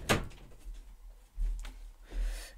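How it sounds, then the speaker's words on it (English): A bedroom door swings shut with one sharp knock near the start, followed by a couple of dull, low thuds in an otherwise quiet room. "I'm gonna shut my door and keep the noise out."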